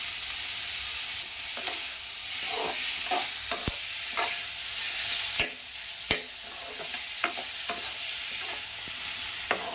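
Peeled garlic cloves sauté in hot oil in a pan for an eggplant curry, a soft steady sizzle punctuated by scattered clinks and scrapes as a spoon stirs them around.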